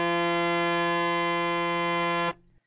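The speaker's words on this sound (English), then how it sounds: "And the same note on the harmonium sounds like this." A harmonium holds a single reedy, buzzy note steadily at even loudness for over two seconds, then stops abruptly.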